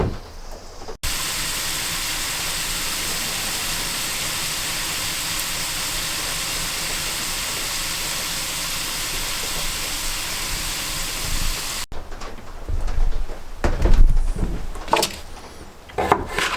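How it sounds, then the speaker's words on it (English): Cut potatoes frying in a pan at a cabin, giving a loud, steady sizzle that runs unbroken for about ten seconds, then gives way to clattering and rustling kitchen noises. "Cutting up some spuds."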